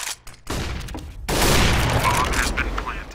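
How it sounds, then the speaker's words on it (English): A flashbang grenade in a shooter video game, with a soft thump and rattle before a loud, sustained bang and hiss that fills the rest of the moment amid game noise. "Throwing flashbang."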